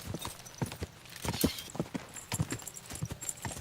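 A horse gallops in the video game Kingdom Come: Deliverance II, its hooves clopping in a quick, uneven rhythm at moderate distance, fairly quiet overall.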